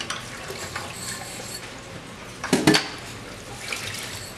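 Dishes are scrubbed in a sink basin of water, soft sloshing and rubbing with a brief louder splash and clink midway, close and quiet.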